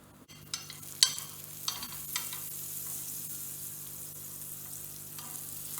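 A paneer chapati cooks with butter on a griddle, making a faint, steady sizzle with a few soft clicks and scrapes from turning it near the start.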